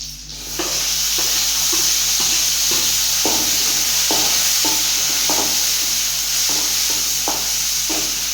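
Tomato joins onion, curry leaves and mustard seeds frying in hot oil, a loud, constant close sizzle with repeated stirring scrapes and taps of the spoon throughout.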